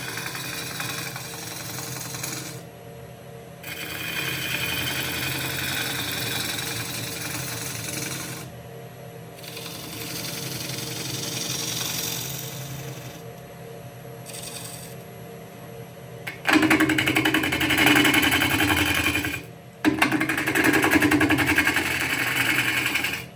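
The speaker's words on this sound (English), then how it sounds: "Just a scraping cut here." A wood lathe spins a bowl blank while a gouge makes a scraping cut, producing a steady whirring hum with repeated gritty scraping bursts broken by short pauses, growing louder and harsher near the end, with no speech.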